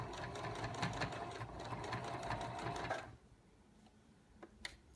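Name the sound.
sewing machine stitching fabric with pins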